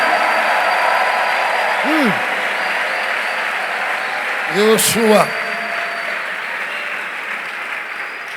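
Steady applause from a large church congregation fills the whole stretch, with a few voices calling out over it twice.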